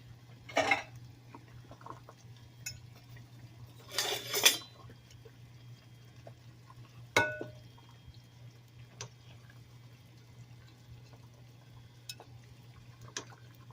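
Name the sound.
dishes and cutlery clinking while plating taco spaghetti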